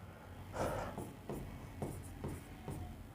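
Chalk or marker writes the number 20 on a classroom board in a maths lesson, a run of five or six short, close scratchy strokes separated by brief pauses.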